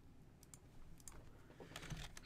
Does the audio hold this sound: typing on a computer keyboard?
yes